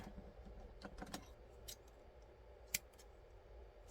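Small scissors give a cardstock scorpion tail a light trim, a few faint, sharp snips spaced apart against a quiet, hushed background.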